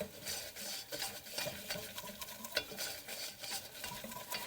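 Butter and flour roux cooking in a ceramic pan, a soft sizzle under quick repeated scraping and stirring strokes, fairly quiet and close.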